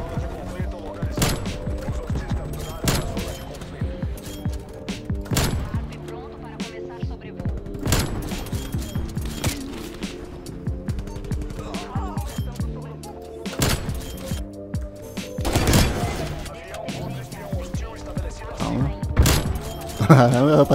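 Explosions and rapid gunfire from a sniper shooter video game, dense bursts of sharp cracks and booms throughout, with someone talking over the action.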